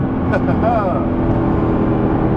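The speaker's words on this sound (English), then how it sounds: "the engine and transmission, it just delivers effortless power and torque" A 2011 Nissan GT-R engine pulls hard under acceleration on a public road, a loud, steady drone with rising tone throughout, while a voice speaks over it.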